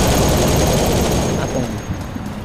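Rapid SMG fire in a first-person shooter set on a moving train, a dense, loud, continuous rattle of shots that tapers slightly toward the end.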